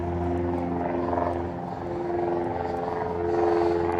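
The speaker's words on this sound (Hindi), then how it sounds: "जेम्स बॉन्ड का हेलीकॉप्टर भी आ गया है।" Helicopter passing over a waterfront harbour area in Toronto on a winter day, a steady low rotor and engine drone that swells and fades slightly, continuous and fairly loud with no talking.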